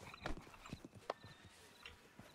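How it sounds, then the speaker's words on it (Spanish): Horse hooves clip-clop in the Western video game Red Dead Redemption 2, a few quiet, uneven hoof strikes at a slow walk, faint and close. "Sí, el caballo es peligroso,"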